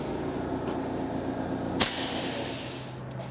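Duplicolor Paint Shop translucent candy coat paint sprays from a spray gun in a single sudden, loud, close hiss that starts abruptly after a quiet pause and holds steadily for over a second before cutting off.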